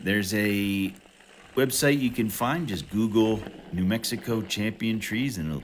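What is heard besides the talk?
No distinct noise like a dog, phone or traffic.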